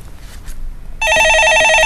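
A telephone rings in a radio studio during a live stock-market call-in show, a loud, steady electronic trill with bright stacked tones that bursts in after a second of quiet room noise and continues alone.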